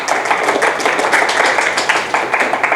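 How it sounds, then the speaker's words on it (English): Audience applause greeting a presenter as she takes the stage at an intern showcase event: steady, dense clapping from a room of people, close and continuous throughout, with no talk over it. "you're being applauded already"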